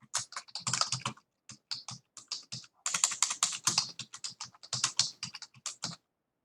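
Rapid bursts of typing on a computer keyboard in a classroom setting, clicking keys in uneven clusters with short pauses, close and fairly clear, with no talking.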